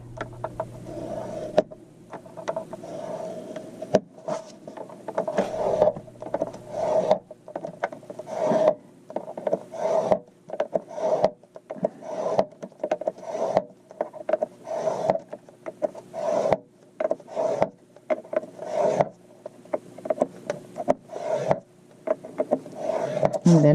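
Paper scored with a scoring board at quarter-inch intervals for embossed folds, giving a run of short, rhythmic scraping strokes that repeat closely throughout while a person talks between them.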